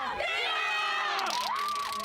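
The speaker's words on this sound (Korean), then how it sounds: "새만금은 함성과 흥분으로 가득해졌는데요" Large crowd of international scouts cheering and shouting at the opening ceremony of the 2023 Saemangeum World Scout Jamboree, a loud continuous roar with rising whoops and yells.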